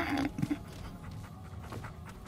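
A dog in the video game Remnant 2 pants in a few quick breathy bursts at the start, followed by faint soft whimpering and game ambience, fairly quiet and with no talk.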